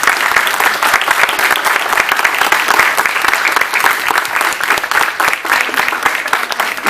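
Strong, steady applause from an audience at a book presentation, dense clapping sustained loud for several seconds without pause.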